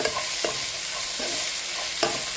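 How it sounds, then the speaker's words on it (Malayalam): Bitter gourd stir-fry sizzles steadily in a hot pan, a loud continuous frying hiss broken by a few short scrapes of stirring, with no voices. "നല്ലോണം അങ്ങനെ ഒന്ന് ഉപ്പേരിയാക്കി വറുത്തെടുക്കുക"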